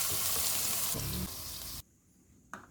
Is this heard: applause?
no